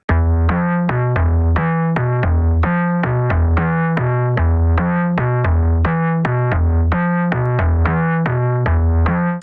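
A music loop from a production session plays loud and steady, with repeating bass notes and sharp percussive hits over a continuous harmonic bed, looping in a regular rhythm.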